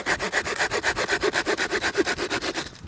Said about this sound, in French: Et ça, c'est vraiment une très très bonne scie.